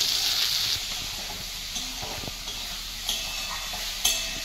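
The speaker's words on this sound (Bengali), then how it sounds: "পেঁয়াজগুলো হাফ ফ্রাই হয়ে গেছে, এবার আমি টমেটোটা অ্যাড করে দিলাম" Onions and tomato frying in a wok, a steady close sizzle and hiss with scraping stirs and a few sharp clinks, no voices.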